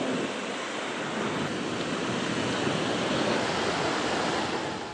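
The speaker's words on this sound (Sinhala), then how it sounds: "ඊයේ රාත්‍රි කාලයේ ගාල්ල ප්‍රදේශයේ අධික සුළං තත්වයක් සහ මුහුදේ රළු ස්වභාවයක් ගෙන තිබුණේ මේ" Strong wind and rough sea at Galle at night, a dense unbroken roar of surf and gusting wind, loud and constant for the whole stretch with no voices.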